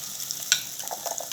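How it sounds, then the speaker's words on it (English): Green pepper fries in hot oil for a breakfast egg dish, a soft steady sizzle with a brief sharp crackle and faint stirring scrapes, no voices. "Once it's boiling, or the oil is boiling, you add your green pepper here."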